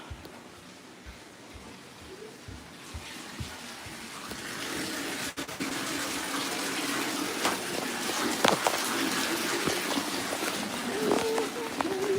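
A bathtub fills with running water, a steady rushing gush that grows louder and fuller over several seconds while people talk nearby and light knocks sound early on.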